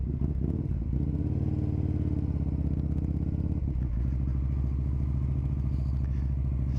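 A motorcycle engine drones steadily and loudly throughout a ride, a constant low rumble with a brief dip midway, with no talk over it.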